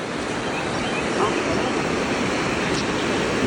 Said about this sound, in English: The creek's rolling again today